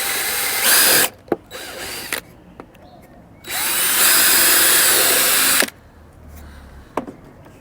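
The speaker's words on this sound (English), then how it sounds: "We'll get some screws in, just do some pilot holes" Power drill boring pilot holes into scrap wood for a DIY planter: two loud sustained whirring bursts, the second longer, separated by quieter clicks and handling knocks.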